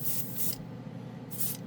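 Gaahleri Mobius TG trigger airbrush spraying acetone, two short bursts of bright hissing spray separated by a pause, close and clear over a quiet low background.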